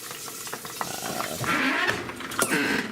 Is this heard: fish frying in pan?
yes